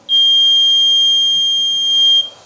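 The buzzer of a homemade laser security alarm sounds a loud, piercing continuous electronic tone for about two seconds, then cuts off abruptly.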